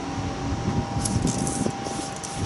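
Paint protection sprayed from a can onto a Harley Superlow motorcycle: a steady close hiss with a few brief, sharper bursts in the middle.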